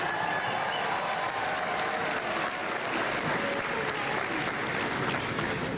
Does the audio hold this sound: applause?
yes